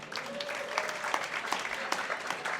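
An audience at a public panel discussion on farming and climate change gives the guests a warm round of applause, an even, continuous patter of many hands clapping with a faint tone underneath.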